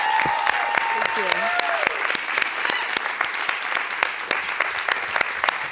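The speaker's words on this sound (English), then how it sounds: "Can we have another round of applause?" A large audience claps steadily and loudly, a dense, continuous patter of hands, with a few voices and whoops rising above it.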